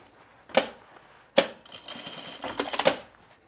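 A home sewing machine stitching men's cargo shorts gives a few short, sharp mechanical bursts close by, two quick hits and then a slightly longer rattling run.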